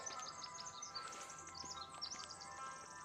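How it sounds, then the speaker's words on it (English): Faint birds chirping and tweeting in short, scattered calls against a quiet woodland background. "Hear the birds?"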